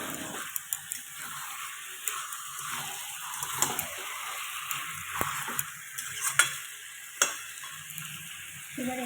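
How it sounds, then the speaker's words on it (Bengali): Mutton being sautéed Bengali kosha style in a pan, a steady sizzle of frying with repeated scraping stir strokes and small utensil clicks throughout, close and moderately loud, no talking. "ওদিকে তো মাটনটাও কষাচ্ছি"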